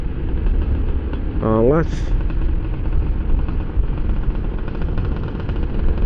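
A Yamaha DT 125cc two-stroke motorcycle engine, fitted with rims in motard style, idles with a steady rumbling drone while someone speaks briefly over it.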